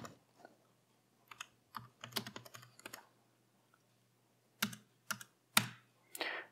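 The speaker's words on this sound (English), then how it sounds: "let's create a password for Woody." Password being typed on a computer keyboard during Linux setup on a Mac: several short bursts of quiet keystrokes, irregular and close, with pauses between groups and no talking.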